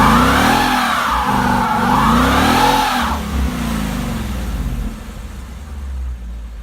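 2017 Ford Mustang GT engine revs hard several times with line lock engaged, rising and falling in loud sweeping surges before settling into a lower idle rumble.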